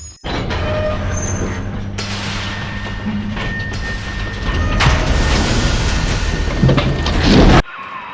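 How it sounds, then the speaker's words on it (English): A train ride in BioShock 2 Remastered: a steady loud rumble with rattling carriage noise, deep booming surges and a hiss like rain throughout, building toward the end before cutting off abruptly. "Take the train to Ryan Amusements."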